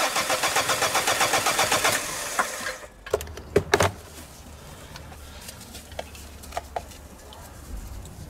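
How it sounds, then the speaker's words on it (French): A diesel car engine cranks with a rapid rhythmic whirring for a couple of seconds, catches, then settles into a low, steady idle with a few clicks, with injector return hoses disconnected. "Démarrez le moteur."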